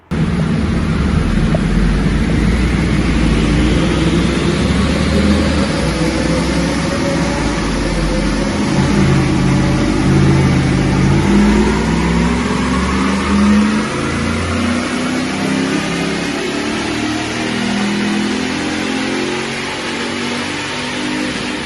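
A powerful V8 engine in a Nissan Navara NP300 pickup revs hard and steadily on a dyno, its pitch sweeping up and down over a sustained roar, loud and close with no voices.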